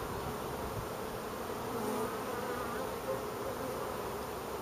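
Carniolan honey bees in a linden-honey harvest during buckwheat bloom form a dense, continuous buzzing swarm, steady and fairly quiet, with no speech.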